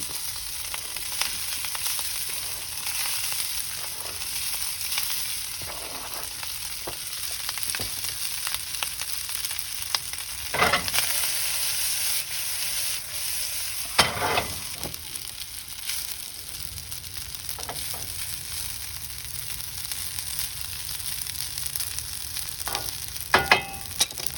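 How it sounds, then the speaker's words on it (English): Day-old garlic fried rice sizzles steadily in a pan with mushrooms and rib eye steak juices, a continuous loud hiss broken by a few sharper scraping stirs. "Now we're putting on the day-old rice"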